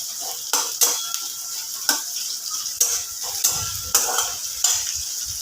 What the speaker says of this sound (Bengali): পেঁয়াজটাকে একটু ভালোভাবে নাড়াচাড়া করে নিতে হবে